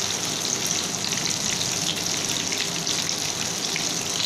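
Chicken malai boti pieces fry in a pan with a steady, loud, hissing sizzle that stays even throughout, with no voices.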